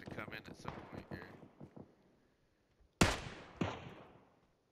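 Two sharp gunshots from a video game ring out in sequence, the second a little weaker, each leaving a short decaying tail. Voices are heard just before them.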